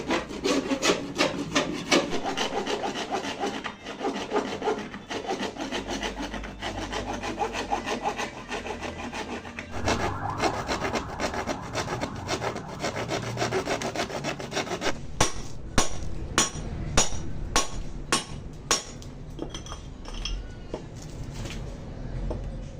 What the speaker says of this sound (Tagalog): Yes, dito, naglalagari na.